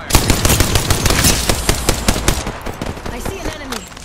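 Rapid automatic gunfire from the Apex Legends video game, a dense run of sharp loud bursts across the whole stretch, with faint in-game voice callouts underneath.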